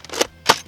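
A BuzzBee Thermal Hunter bolt-action dart blaster fires, two quick sharp snapping cracks about a third of a second apart, close and loud with nothing else around.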